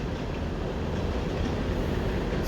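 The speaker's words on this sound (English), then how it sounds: "as you can hear, there's a train rumbling across the bridge." A train crosses the bridge at Harpers Ferry, heard from the C&O Canal towpath as a steady, broad rumble. The sound holds even and continuous throughout, with no voices over it.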